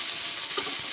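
Thinly sliced onion, capsicum and cabbage fry in hot oil over a high flame, giving a steady, close broadband sizzle with no voices.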